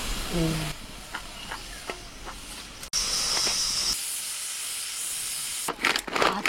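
A loud, steady hiss of steam escaping from a pressure cooker whistle in a home kitchen, carrying on for several seconds with a brief higher whistling tone partway through.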